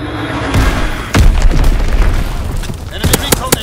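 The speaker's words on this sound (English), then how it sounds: "Enemy bomb incoming! Get to cover!" Enemy bomb explosion in the World War II shooter game Call of Duty: WWII, a loud deep boom with rumbling aftermath and several sharp bursts near the end, with game voice chatter mixed in.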